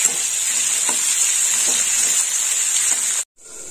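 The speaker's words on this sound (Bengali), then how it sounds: "আলুটা একটু ভাজা হোক।" Potatoes fry in hot oil in a pan, giving a steady, close bright sizzle with faint stirring scrapes before cutting off abruptly near the end.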